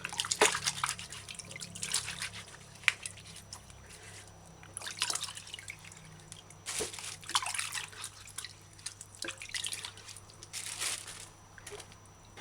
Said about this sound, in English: It's best if you do this part under fresh running water.